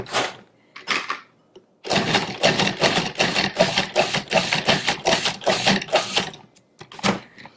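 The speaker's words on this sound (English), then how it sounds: "we're going to pulse that until it's finely chopped" A food processor pulses seeded tomatoes into a fine chop, giving a quick series of about a dozen short, loud, evenly spaced motor bursts, with a few scattered pulses before and after the main run.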